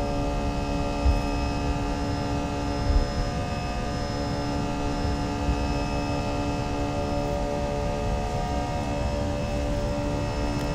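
Simulated Airbus A320 jet engines spooling at takeoff power on the runway in X-Plane 11, a steady, loud tonal whine layered over a broad rumbling roar that holds constant throughout with no talk.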